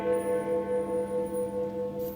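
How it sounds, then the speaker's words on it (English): Church bells toll midnight in a stage production of A Christmas Carol, a steady sustained ringing with sharp repeating strokes about every quarter second and a long humming resonance, moderately loud and alone. "The sound of church bells tolls the midnight hour."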